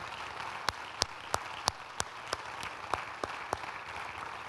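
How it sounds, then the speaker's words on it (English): Scattered hand claps from a church congregation during a sermon, a few sharp, fairly regular claps over a faint, quiet room background. "just clap our hands for those who have done it great"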